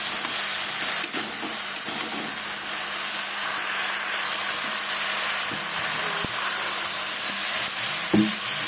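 Cauliflower, green peas and tomato sizzle steadily in a pan after a splash of water, with a continuous hissing fry and occasional light clinks of a spoon.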